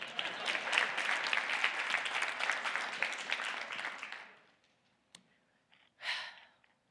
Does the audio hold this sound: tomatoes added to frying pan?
no